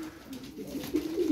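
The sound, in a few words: pigeons cooing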